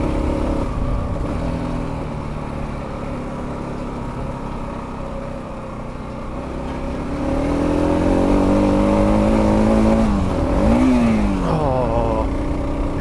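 Kawasaki KLR 650 motorcycle accelerating on a bumpy road, its engine droning steadily, then rising in pitch and loudness through the revs before a gear change and another climb near the end.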